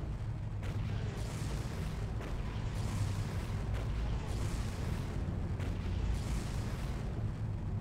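Explosions in the video game Far Cry: a quiet, continuous low booming rumble with repeated muffled blasts and bursts, steady and distant-sounding throughout, no talk.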